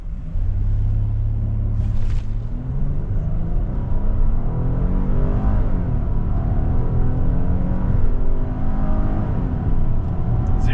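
A 2026 Hyundai Palisade V6 three-row SUV accelerating hard from a standstill, heard from inside the cabin as a steady low engine rumble and road drone that builds without a break, with no talking.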